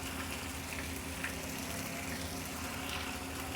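Chicken kebabs fry lightly in a pan, giving a steady, soft sizzle with faint bubbling and crackle that holds even throughout, with no talking.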